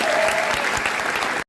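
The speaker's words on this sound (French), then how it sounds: "Félicitations, on peut vous applaudir." Dense, loud applause from an audience at a graduation ceremony for the 2023-2024 class, many hands clapping steadily before a sudden cut.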